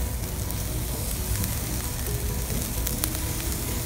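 Asparagus and lobster tails sizzling on a charcoal grill, a loud, steady, close hiss and crackle with faint pops throughout and no talk.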